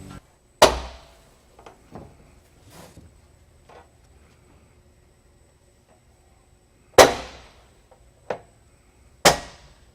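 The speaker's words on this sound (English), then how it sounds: "it's a 3-angled bracket that literally snaps onto both legs of the fixed" Plastic fixed panel clip covers snapping onto the legs of door panel clips during installation, several sharp isolated clicks spread over a quiet stretch, close and fairly loud.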